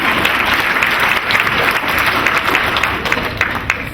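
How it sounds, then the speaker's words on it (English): Audience at an evening awards ceremony breaking into steady, loud applause from many hands, continuous throughout with no talk on top. "Give yourself a round of applause."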